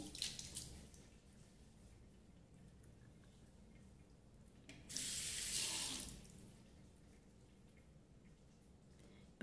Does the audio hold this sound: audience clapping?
no